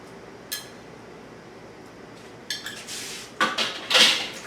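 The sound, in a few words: tablespoon scraping soft butter into a pan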